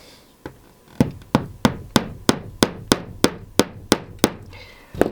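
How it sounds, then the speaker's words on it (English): A hammer taps steadily about a dozen times, light even blows tacking flexible model railway track into a plywood board, close up and with no talk. "I'm not hammering it in hard at all. I'm just tacking it into place."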